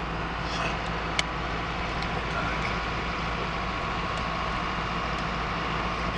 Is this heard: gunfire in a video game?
no